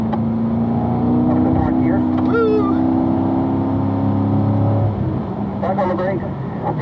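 A car on a race track during a performance driving school session, its engine humming steadily then rising as it accelerates out of a corner, heard from inside the cabin, with an instructor talking over it.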